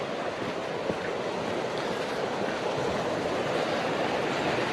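Water waves on the Derwent estuary, a steady broadband wash of surf mixed with wind noise, constant and fairly loud with no voices.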